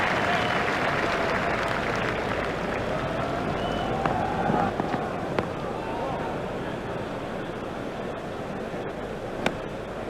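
A stadium crowd in the EA Cricket 2002 video game applauds a boundary during a World Cup semi-final between India and South Africa, a steady, dense wash of clapping and cheering held for several seconds.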